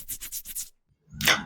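Scratching at a door as a spooky sound effect: five quick rhythmic rasping strokes, a short silence, then one louder, longer scrape, heard alone with no talk.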